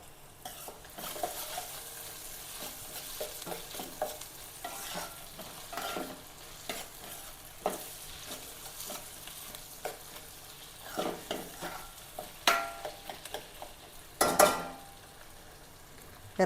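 Sliced onions and two sprigs of curry leaves sizzle in a pan with a steady soft frying hiss, punctuated by repeated scraping stir strokes and a few louder clanks of the utensil near the end.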